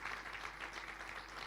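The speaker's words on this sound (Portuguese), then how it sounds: "dê um aplauso bem forte ao Senhor" A church congregation applauds loudly after the preacher calls for a strong round of applause to the Lord, a steady, dense wash of clapping filling the room without pause.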